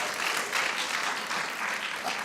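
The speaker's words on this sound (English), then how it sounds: "Give her a round of applause, please." An audience claps at a distinguished lecture series event, an even, sustained wash of hands from a seated crowd lasting a couple of seconds.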